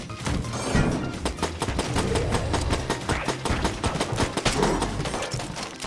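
Rapid gunfire from Enter the Gungeon, a dense, continuous stream of sharp shots layered with game music, steady and loud throughout with no pause.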